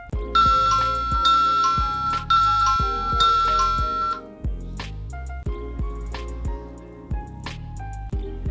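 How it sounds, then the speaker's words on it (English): A Uniview video doorbell plays its call chime, a clear repeated melodic ding-dong pattern ringing loudly several times in succession with short pauses between phrases. "I'm gonna have someone call through the doorbell"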